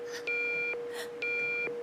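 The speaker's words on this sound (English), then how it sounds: "Can somebody make that confounded alarm stop?" Two long electronic alarm tones, each a steady high beep holding about half a second, repeating with a short gap, clear and close.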